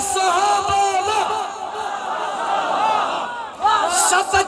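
A large crowd chants the religious slogan "Wah Sahaba Wah" at a rally in Muzaffar Garh, Jatoi, massed voices rising and falling in loud rhythmic waves with sharper bursts of shouting near the end.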